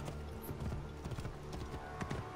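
Horse hooves clip-clopping in the Assassin's Creed Origins video game, a steady rhythmic run of hoof beats at moderate volume over a light ambient background.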